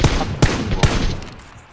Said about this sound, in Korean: 총알 엄청 많은데 막 쏴지겠다